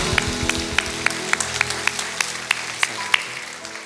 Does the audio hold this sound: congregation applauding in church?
yes